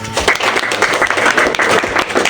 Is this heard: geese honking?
no